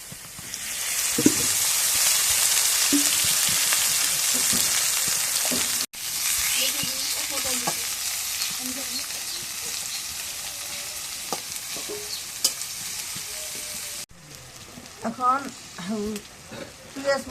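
Oil sizzles and spits steadily in a pan while a utensil stirs and scrapes now and then, with a quieter stretch near the end.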